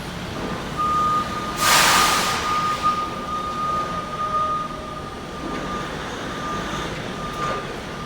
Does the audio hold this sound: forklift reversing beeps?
yes